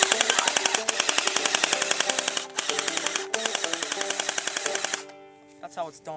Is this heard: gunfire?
yes